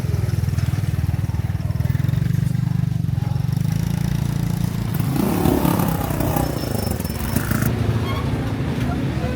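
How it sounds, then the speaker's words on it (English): Heavily modified, custom-built delivery motorbikes run steadily through a damp, dimly lit alleyway at a night flower market in Vietnam, with a low engine rumble throughout and clattering and a louder passing burst midway, amid background voices. "the delivery riders and their heavily modified, custom-built motorbikes"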